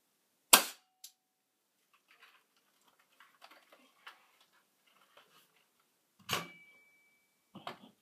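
Airsoft gun fired indoors: a sharp, loud crack near the start, then faint clicks and handling rattles, and a second loud shot with a ringing tone around six seconds, followed by more clicks.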